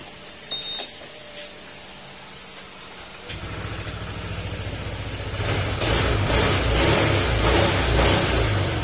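A Honda PCX160 or ADV160 scooter engine sputters to life a few seconds in, then settles into a steady idle that grows slightly louder and rougher toward the end.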